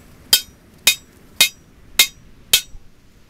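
A hammer taps on charcoal briquette material packed in a mold made from agricultural waste, five sharp, evenly spaced strikes with short decays against near silence.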